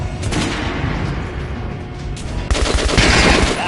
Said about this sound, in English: Shoot the dummy in the head.